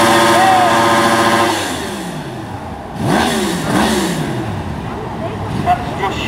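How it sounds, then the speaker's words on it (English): A brand new Yamaha R1 motorcycle engine being revved to warm up at an indoor arena event, a loud idle, then sharp rising revs and a couple of repeated blips, with a crowd murmuring around it. "that's how you warm a brand new engine up"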